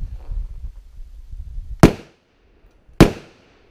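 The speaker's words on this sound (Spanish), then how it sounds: "si tengo mi rifle regimado a 25 metros y estoy disparando a 3" Two sharp, loud rifle shots fired at close range crack about a second apart, each with a short decay, after low rumbling handling noise.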